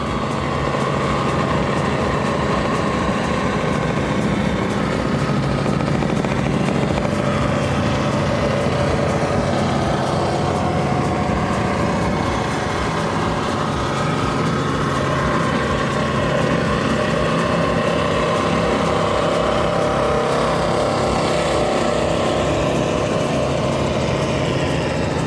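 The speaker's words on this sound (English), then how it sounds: "I want you to hear these roaring engines" The restored powerboat Tatanka roars across open water during the Key West Poker Run, its engines giving a loud, continuous low throb that stays steady throughout with no speech.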